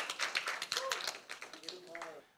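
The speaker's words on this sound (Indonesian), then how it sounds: "boleh tepuk tangan buat Lowell, buat Elis, sama Angel." Youth service audience clapping for three friends, a broadband patter of hands running throughout, with cheering voices and talk mixed in.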